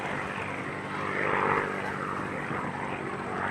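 A propeller airplane roars past fast and low in a high-speed, low-altitude pass at an airshow in Cleveland, the engine swelling to a peak midway and then fading slightly as it moves away.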